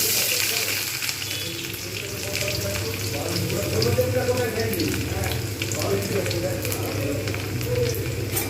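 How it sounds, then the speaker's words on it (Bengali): Onions fry in oil in a pan for a Bengali sweet potato bhorta, giving a dense, continuous close sizzle with faint stirring. A voice talks quietly underneath. "পেঁয়াজটাকে আমি কিন্তু একই রকমভাবে ভেজে নেব"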